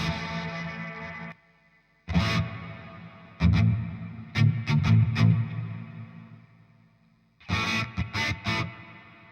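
Electric guitar played through a Walrus Audio Melee pedal on its normal reverb setting: strummed chords and short bursts ring out, each trailing into a reverberant tail, separated by brief silences.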